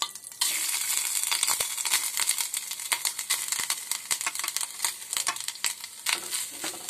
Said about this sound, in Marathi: तेल गरम झालं की मी त्यात खोबरं आणि गूळ एकत्रच टाकणार आहे।